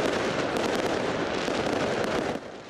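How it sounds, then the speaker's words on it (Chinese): Dense, continuous crackle and popping of fireworks at a New Year street celebration in Croatia, loud and sustained throughout with no talk, easing slightly near the end. "当克罗埃西亚迎来2023年，烟火照亮街道。"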